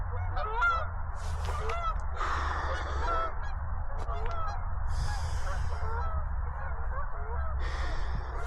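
A flock of Canada geese honks continuously overhead, many overlapping nasal calls with low background rumble, sustained throughout.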